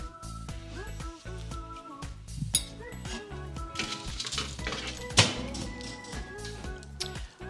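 A metal baking tray of homemade granola is pulled from the oven with clinks and a sharp clatter near the end, set against steady background music.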